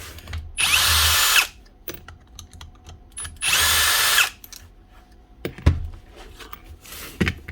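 A power tool spins out bolts on a demolition hammer under repair, two loud sustained whirring bursts about a second each, separated by quiet gaps with a few sharp clunks and taps.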